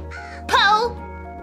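A single loud crow caw from Poe the crow in the video game Calico, rising sharply over a steady low game hum, close and isolated with no talking.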